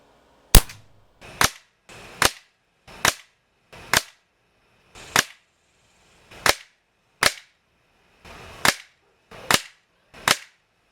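Eleven sharp, loud shots from a Beeman Raider .22 air rifle fitted with a new regulator, fired one at a time at roughly one-second intervals with silence between them, close by and outdoors.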